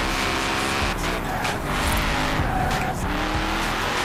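Ken Block's twin-turbo Ford F150 pickup drifting at night through city streets in Forza: a loud, sustained engine roar mixed with squealing tires as the truck slides, steady and close throughout.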